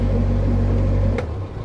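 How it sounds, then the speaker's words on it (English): A narrowboat's engine runs close by in a steady low rumble with a constant hum, easing slightly toward the end, heard alone without speech. "Got the engine next to me."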